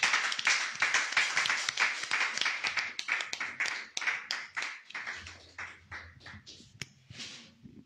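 A congregation claps together at a church service, a fast, steady run of loud close hand claps that gradually thins and softens toward the end.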